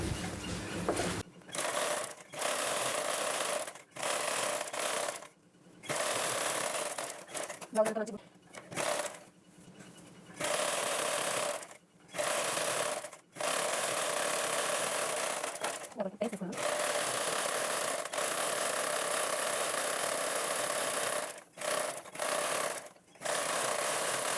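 A sewing machine stitches the side seam of a blouse, its fast mechanical whirr running in long bursts broken by short stops.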